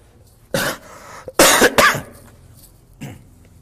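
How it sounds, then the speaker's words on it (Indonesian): A man gives a series of dry, close coughs: one burst, then a harsh double cough a second later, and a fainter single cough near the end, with quiet pauses between. "Maafkan ya, lagi batuk"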